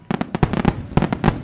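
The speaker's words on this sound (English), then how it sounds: "Now, let's start our fireworks show." Fireworks bang and crackle in an animated Thomas and Friends episode, a rapid run of loud, sharp bursts in two clusters with brief gaps between them.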